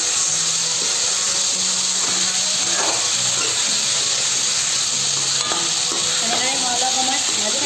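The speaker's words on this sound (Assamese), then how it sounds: "এনেদৰে মই অলপ সময় ভাজি থাকিম" Meat frying in oil with tomato in a pan over low flame, a constant close sizzle and hiss with faint stirring and scraping sounds throughout.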